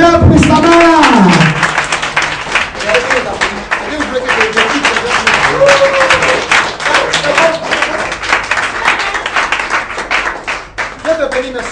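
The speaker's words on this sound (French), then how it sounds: "On acclame le Seigneur pour sa main." A church congregation bursts into sustained, dense clapping and applause for the Lord, close and loud throughout, with voices shouting and singing over the crowd.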